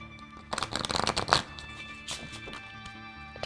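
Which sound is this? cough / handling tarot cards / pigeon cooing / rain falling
handling tarot cards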